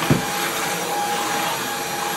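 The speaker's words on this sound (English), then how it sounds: "I'm gonna clean up this clothes and vacuum." A vacuum cleaner runs indoors at home with a loud, steady, close whine and whoosh after a brief knock at the start, with no voices over it.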